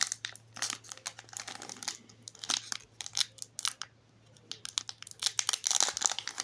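A Pokémon card booster pack wrapper being torn open, heard as close bursts of crinkling and tearing foil plastic in uneven clusters, with brief quieter gaps between.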